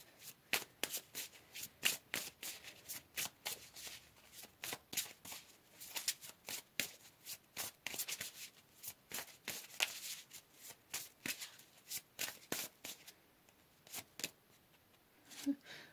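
A deck of tarot cards is shuffled by hand with soft, quick riffling and tapping strokes repeating steadily throughout. The sound is close and fairly quiet.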